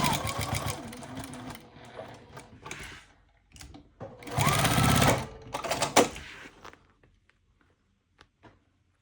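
A sewing machine back stitches and then runs fabric for a small keeper project, sounding in several quick bursts of whirring stitches separated by short pauses, then falling nearly silent apart from a couple of faint clicks.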